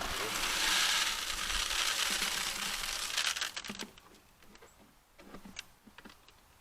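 A plastic gravity feed is pulled out of a Moultrie deer feeder: a broad rushing scrape, then a string of sharp plastic clicks, ratcheting snaps and rattles, close by and fairly quiet.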